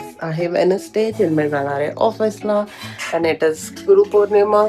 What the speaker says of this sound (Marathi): मागे चिन्मय भांडी लावतोय म्हणून खूप आवाज येत असेल